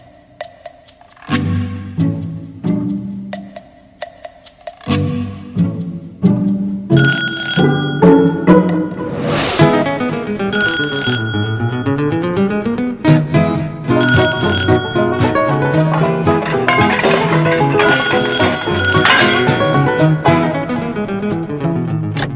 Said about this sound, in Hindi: हम लोग घंटी पे घंटियां बजाई जा रहे हैं